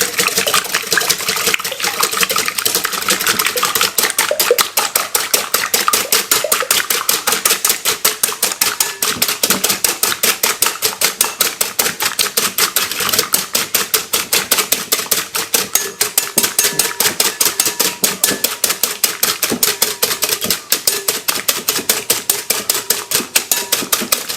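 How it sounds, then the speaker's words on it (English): Eggs whisked in a bowl by a chef, a fast steady rattle of the whisk against the bowl that runs unbroken and loud for the whole stretch, close-up with no speech. "You want to whisk the egg very, very good."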